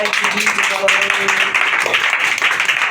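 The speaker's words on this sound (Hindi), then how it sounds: "जोरदार ताली से प्रभु की स्तुति करें" Church congregation clapping loudly in praise, a dense continuous patter of applause with voices mixed in.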